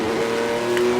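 A 1958 Formula One car engine in the Automobilista racing game revs loudly and steadily, its sustained buzzing drone holding pitch with a slight swell toward the end.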